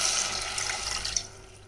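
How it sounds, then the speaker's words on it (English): Water poured into a pot of rice and caramelized onions for Sindhi browned rice, a steady close rushing pour that tapers off near the end. "Just give it another 30 seconds more and then add twice the measure of water"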